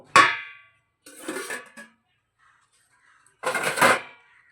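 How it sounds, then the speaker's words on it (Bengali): A metal lid is lifted off a pot of cooking vegetable dal, giving a sharp clang followed by lighter scraping clinks, then another rattling metallic touch, each close and separated by silence. "এবারে আমরা ঢাকাটা খুলে নেব"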